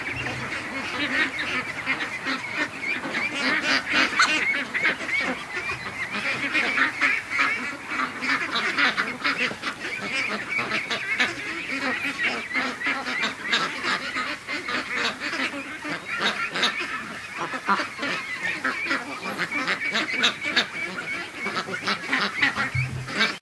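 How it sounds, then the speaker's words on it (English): A group of ducks at a lake at 7am quacks and honks continuously, overlapping calls at close range with no pauses. "The ducks just woke up."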